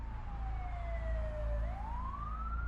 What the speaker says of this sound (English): the EMTs loaded Mark into the back of the ambulance and sped off to the hospital